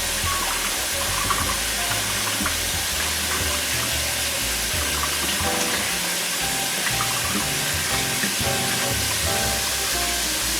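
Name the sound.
washing apples in a strainer under running water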